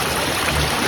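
Fast, heavy stream water rushing at night at a crab hunting spot, a loud, dense, close roar filling the moment with no voices.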